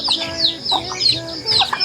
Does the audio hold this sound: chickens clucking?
yes